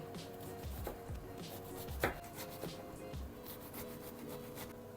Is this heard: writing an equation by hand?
no